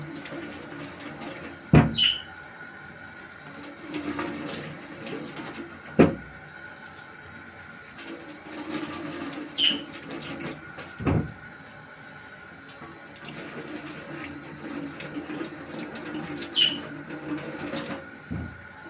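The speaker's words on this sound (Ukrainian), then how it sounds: "Під холодною водою проточною" Cold water runs steadily from a tap, with a few sharp knocks and clunks at irregular intervals as salted crucian carp and roach are rinsed in the sink.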